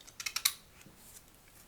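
Scissors snip through a strip of paper while a square is cut for a hexagonal snowflake: a quick run of four or five crisp, close snips, then near silence.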